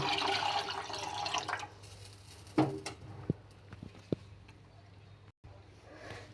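Water poured into ground rasam spice powder in a home kitchen gives a soft, splashy rush that fades after a couple of seconds, followed by a few faint drips and clinks.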